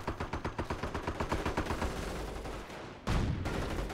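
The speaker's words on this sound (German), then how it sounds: "Ja, Sturmgewehre." Assault rifle fire in the World War II strategy video game Company of Heroes, a steady rhythmic burst of repeated shots followed by denser overlapping gunfire, at moderate distance and fairly quiet.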